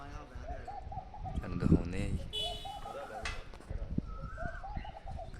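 Pigeons coo in soft repeated phrases near a haveli pigeon loft in harsh summer heat, used for pigeon flying, with someone talking over them.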